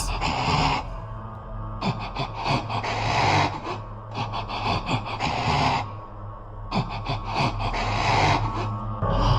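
Wet, gasping, snorting creature noises from the Regenerator enemies in Resident Evil 4 come in repeated bursts, raspy and breathy, with short pauses between them.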